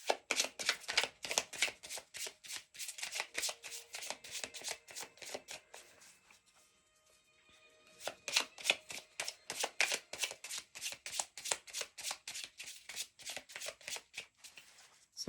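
Tarot cards being shuffled for a reading, a long run of rapid crisp riffling bursts, close and fairly loud, with a brief quieter pause in the middle before the shuffling resumes.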